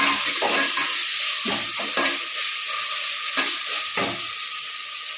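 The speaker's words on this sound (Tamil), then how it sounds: "தக்காளியை போட்டு நல்லா வதக்கணும்." Loud continuous sizzling of tomatoes frying in a pan, with a spatula scraping and stirring several times.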